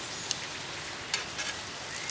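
Chinese chive pockets frying in a pan, with a steady close sizzle and a few faint ticks and pops over about two seconds.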